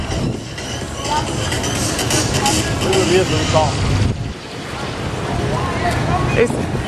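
Steady rushing of wind and water around a moving boat, a broad continuous wash with a brief dip midway and no clear voices.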